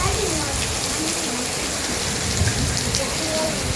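Steady rain falls across open farmland in a sudden downpour, a dense, even hiss of drops hitting the ground and surfaces, close and continuous throughout with no lull.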